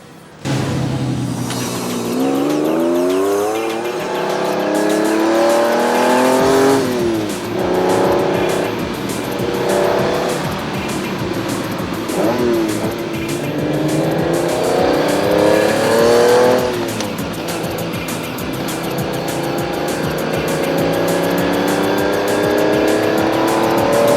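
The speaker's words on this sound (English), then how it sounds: "the Lamborghini looking absolutely lovely there on the track" A Lamborghini Countach 5000 QV roars around a race track, its engine revving hard through repeated rising and falling gear sweeps, loud and close throughout, with brief lifts between accelerations.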